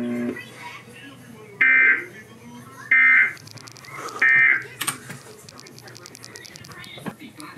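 Emergency Alert System attention tone from the 2023 national test, three loud, steady electronic two-tone bursts of about half a second to a second each, separated by short gaps, with faint background noise between them.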